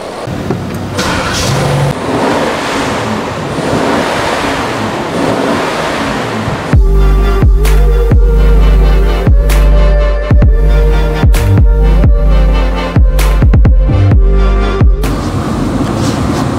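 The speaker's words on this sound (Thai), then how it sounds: "วางบนเครื่องยนต์แล้วก็เร่งเต็มที่นะครับ" A car engine idles roughly for a few seconds, then is revved hard at full throttle in a series of sharp repeated bursts, loud and close, each rise cutting off abruptly.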